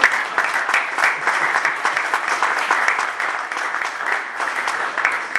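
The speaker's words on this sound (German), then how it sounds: "Ein kleiner Applaus, wäre gar nicht mal schlecht." Steady applause from a congress audience in Berlin, many hands clapping continuously at moderate volume with no pause.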